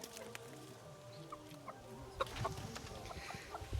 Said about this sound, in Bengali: পায়রার মতোই বড় মোরগ এটা